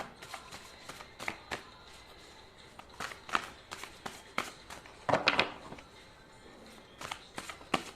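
Repeated crisp riffling bursts of tarot cards being shuffled, close by, in irregular bursts with short pauses between them.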